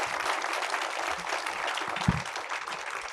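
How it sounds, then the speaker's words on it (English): An audience at a public talk on climate and cities claps warmly, a dense, even wash of applause held for a few seconds with one slightly louder clap near the middle. "one more round of applause for these amazing people"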